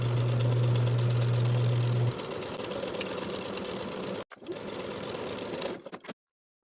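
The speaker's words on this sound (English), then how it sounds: "Sew all the way around the top of the pants with a 3/8 inch seam allowance" A sewing machine stitches around the top of linen paperbag-waist shorts, a steady loud whirring run of about two seconds that eases into continued stitching, with a brief pause before it resumes and stops.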